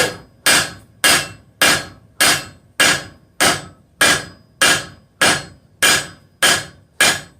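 A hammer pounds hot steel on an anvil in a steady, even rhythm, forging a bick iron, about a dozen loud, ringing strikes close by, with no talking.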